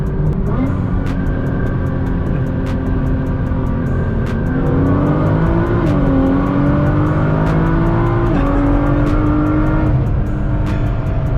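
A 700 hp Nissan GT-R with a loud exhaust accelerates hard on a canyon run, heard from inside the car as a steady, dense engine roar with rising pitch sweeps through the gears and brief shift breaks, loud and continuous throughout.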